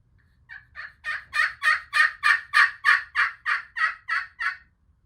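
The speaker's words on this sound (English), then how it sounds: "He gobbles." Wild spring gobbler turkey sounding one loud, close gobble of about a dozen rapid rattling pulses that swell and then fade, with quiet background around it.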